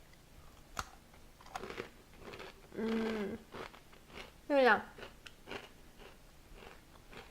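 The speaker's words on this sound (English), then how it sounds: "But right now I need to give this a bite." Crunchy triple chocolate biscotti with nuts is bitten and chewed close up, giving two loud crisp crunching bursts between quieter chewing sounds, with a person speaking briefly at the start.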